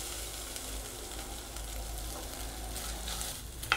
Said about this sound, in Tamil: நம்ம தேங்காயும் போட்டு ஃப்ரை பண்ணிவிட்டு தனியாக எடுத்து வச்சுக்குவோம்